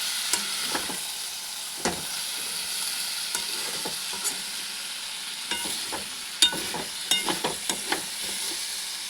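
Spice paste for a chicken dish fries in an uncovered pan, a soft continuous sizzle broken by scraping stirs and a quick cluster of spatula knocks near the end.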